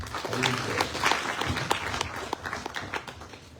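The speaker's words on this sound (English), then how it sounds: "Let's give her a big clap again." An audience at a memorial ceremony applauds in a warm, moderately loud burst of clapping that gradually thins and fades out.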